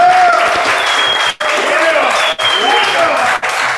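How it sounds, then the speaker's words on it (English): A crowd claps steadily at a Dallas boogie-scene gathering. The dense, even applause runs under a faint tonal background, with a few short dips in level. "I want everybody to start clapping right now"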